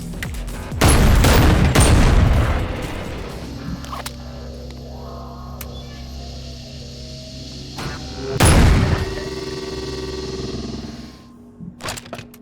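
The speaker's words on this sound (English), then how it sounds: "in Bonelab there is a shotgun that's incredibly fun to use" Shotgun blasts in the VR game Bonelab, two heavy booming shots several seconds apart with quieter game noise between them and a small rattle at the very end.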